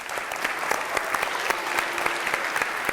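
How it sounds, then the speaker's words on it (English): Steady applause from a school audience welcoming a teacher on stage, many hands clapping at a moderate distance with a few sharper claps standing out and faint voices underneath. "can we have a round of applause"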